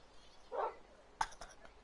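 A dog in the Minecraft video game gives a short, faint bark followed by a couple of quick yips, heard alone.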